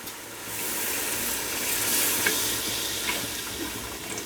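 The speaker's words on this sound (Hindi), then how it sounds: "अब हम इसमें पानी ऐड करेंगे।" Water pours steadily into a pot of basmati rice pulao with potatoes and peas after the spices are fried, a continuous close rushing splash with no talking.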